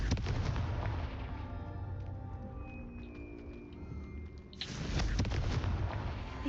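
A Confringo blasting spell explodes in the video game Hogwarts Legacy with a loud booming burst, then fades into a rumbling tail before a second heavy blast hits. Dense game sound fills the background.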